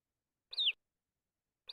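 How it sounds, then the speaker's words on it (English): A recorded type one evening grosbeak call, captured in Wyoming: one clear, quick descending chirp, alone against silence, with the start of another note cut off at the very end. "And that's a type one evening grosbeak."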